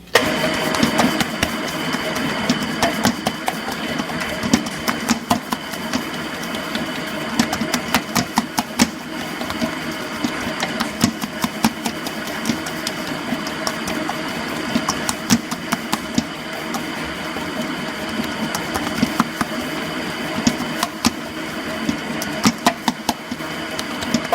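A stand mixer kneads rye bread dough with a steady, loud motor whir and a rhythmic knocking churn that continues without a break, close up and with no talking over it.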